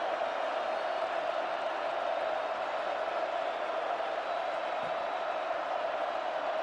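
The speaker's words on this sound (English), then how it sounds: "They got the crowd involved now." A crowd of about 90,000 at a USC vs Fresno State college football stadium roars in a dense, steady wall of noise, loud and continuous throughout.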